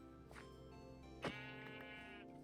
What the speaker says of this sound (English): Oh, there's some sheep.